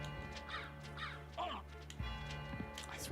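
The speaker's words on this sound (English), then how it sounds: "I'm gonna die to the crows." Repeated harsh caws from crows in Symphony of the Night ring out three or four times in quick succession, loud against a layered backdrop of game music and low thumps.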